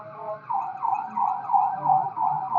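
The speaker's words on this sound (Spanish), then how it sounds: "Dejen que pase la ambulancia o la patrulla, lo que sea." An emergency siren wails in a repeating rising-and-falling sweep, fairly loud and steady, with road noise faintly underneath.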